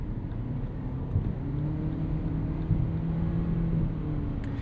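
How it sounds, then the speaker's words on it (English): A 2025 Lexus UX 300h hybrid's four-cylinder engine hums under acceleration inside the cabin, a low, steady drone with rising tonal whir and road rumble, fairly subdued and without speech. "The four-cylinder in this is not nearly as loud as it is in a Corolla Hybrid or a Prius."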